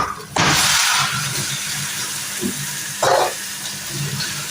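Marinated chicken hits a hot pan with a sudden loud sizzling hiss that settles into steady frying crackle, with a second burst of sizzle a few seconds later as pieces shift in the pan.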